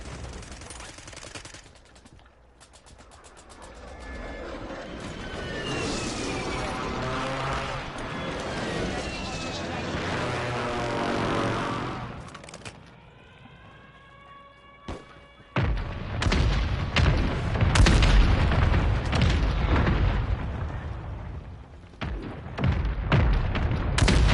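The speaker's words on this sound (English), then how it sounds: "Friendly airstrike in the AO." A Call of Duty Warzone airstrike, with aircraft noise and heavy explosions mixed with rattling gunfire; a calmer stretch with a radio-style voice gives way to a loud, dense barrage of blasts near the end.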